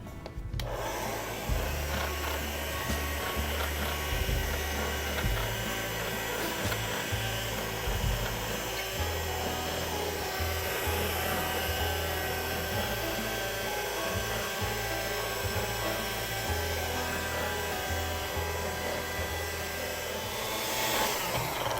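A fondant sheet runs through a roller machine while being thinned into a long strip for a wedding cake ribbon and bow: a steady, close mechanical hum and rumble that continues for the whole stretch, with no talking.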